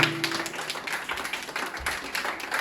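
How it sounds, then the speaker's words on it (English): Students in an English speaking practice class applaud a fellow student speaker, a light, fairly faint patter of clapping hands carrying on steadily throughout. "Clapping should be continued for him."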